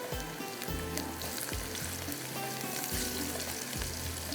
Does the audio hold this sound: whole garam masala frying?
yes